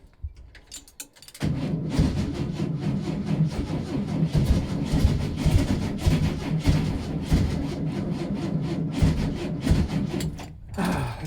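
Volkswagen Type 2 engine cranking on its starter after fuel is added to the carburettor, a sudden churning grind that runs for about nine seconds and then cuts off, close and fairly loud.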